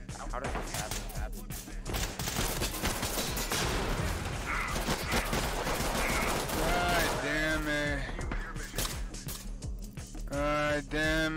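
Gunfire in the tactical shooter Ready Or Not: rapid bursts of shots crackle throughout, dense and loud, with voices talking over them in places.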